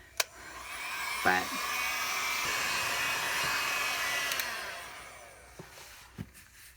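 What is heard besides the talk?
heat gun drying a canvas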